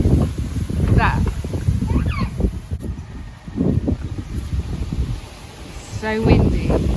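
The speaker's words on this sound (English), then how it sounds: "So windy." Strong gusts from Storm Ellen blow across a garden, buffeting the microphone with low rumbling roars that rise and fall, while people talk and a few higher bird-like or squeaky sounds poke through near the end.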